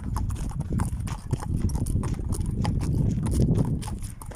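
Horse hooves clip-clop in a brisk, steady rhythm of sharp knocks over a low rumbling background, close and moderately loud, on a horseback trek between Yakutia and Mongolia.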